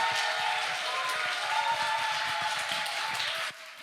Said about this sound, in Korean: 어느 목사님들보다 더 큰 박수로 맞아주시면 고맙겠습니다